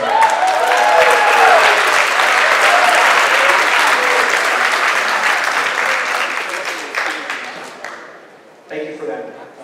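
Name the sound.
crowd applause at Valley Fire update meeting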